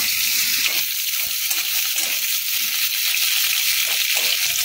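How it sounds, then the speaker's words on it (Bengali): Pointed gourd pieces frying in hot oil for a mixed-vegetable labra, giving a loud, steady close-up sizzle that runs without pause and with no voices. "ওই তেলের মধ্যে আগে পটলগুলোকে ছেড়ে নিচ্ছি। পটলগুলোকে একটু ভেজে নেব।"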